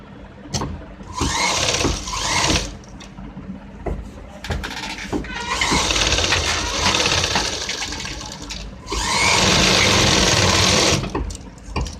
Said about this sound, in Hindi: बुकरम की जो है जड़ में सिलाई लगाएंगे